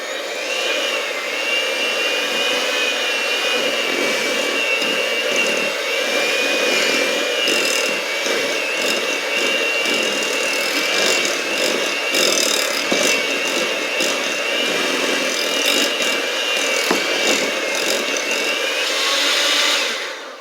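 Electric mixer whipping cream cheese frosting with powdered sugar for carrot cake, a steady, loud whirring drone that runs unbroken for the whole stretch, no voices over it.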